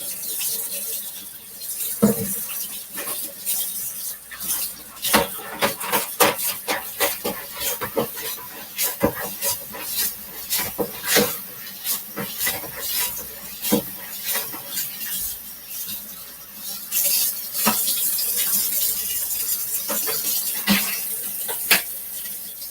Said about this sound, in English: while I got the water running, I'm going to wash off my cutting board